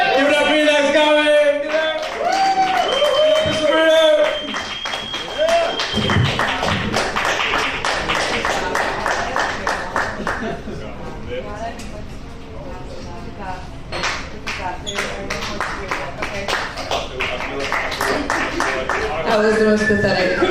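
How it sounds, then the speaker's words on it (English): Audience applause and scattered clapping at a stand-up comedy show in a club, a thin, sustained patter that continues under loud voices and cheers from the crowd and stage. "That was the most pathetic continuation of applause."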